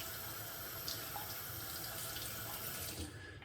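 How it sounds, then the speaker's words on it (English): Tap water runs steadily into a sink as a razor is rinsed under it. The splash is continuous and soft, close by, with faint clinks in the stream. "When I rinse the razor, everything comes off"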